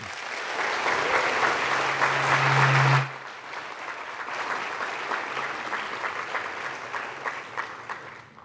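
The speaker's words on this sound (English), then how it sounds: "If you all could give a loud round of applause for Peter Stern, everybody." A large audience applauds loudly to welcome Holocaust survivor Peter Stern at an evening remembrance event, the clapping swelling for about three seconds and then carrying on at a lower, steadier level.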